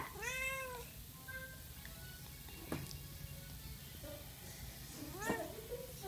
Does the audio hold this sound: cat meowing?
yes